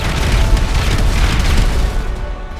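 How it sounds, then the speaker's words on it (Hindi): Explosion sound effect for two passenger jets, a KLM Boeing 747 and a Pan Am plane, colliding on a runway at Tenerife airport: a loud, sustained, deep roaring boom that rumbles steadily throughout before easing slightly at the end. "धमाका"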